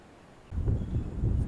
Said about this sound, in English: today is windy, very windy